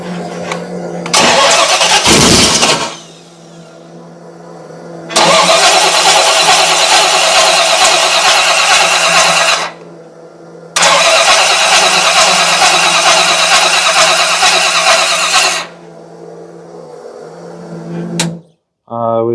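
An Oldsmobile Cutlass engine cranks and fires up in three loud, sustained bursts of engine noise separated by quiet pauses, followed by a short rattle and brief voices at the end.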